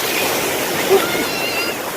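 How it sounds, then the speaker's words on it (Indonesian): Strong, powerful ocean surf on a Hawaiian shore near where lava flows to the beach, a steady broadband roar of crashing waves filling the whole clip with a brief louder surge midway. "ini ombak yang di Hawaii ini sangat kencang sekali ya."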